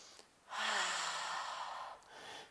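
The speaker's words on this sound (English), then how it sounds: "Couple deep breaths here." Deep, slow breathing during a Hatha yoga flow: one long, soft airy exhale stretching about a second and a half, close and quiet, with no talking.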